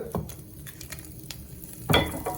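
Dried red chillies frying in oil, a faint sizzle under a few clinks and a scrape as they are stirred, with one louder stirring clatter near the end.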